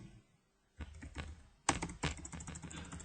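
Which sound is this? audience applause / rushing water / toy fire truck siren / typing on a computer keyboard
typing on a computer keyboard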